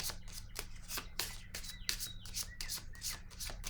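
Playing cards are shuffled for a card reading, producing quiet, repeated riffling bursts at close range with no talking.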